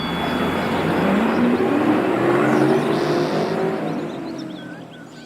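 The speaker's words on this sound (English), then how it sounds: "She's going on the bus." A bus motors past with a loud, rushing engine roar and a rising whine, holding steady before fading away as it moves off, with no voices.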